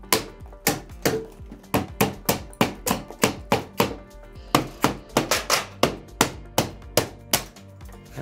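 Sharp, repeated hammer blows strike firmly stapled material on an OLED laminator in a steady rhythm, close and loud, with brief pauses between bursts.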